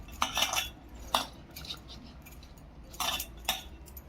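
A spoon mixing a crushed sabudana (tapioca pearl) mixture in a bowl, giving a few soft scraping and clinking strokes in quick bursts, close and fairly quiet, with no talking.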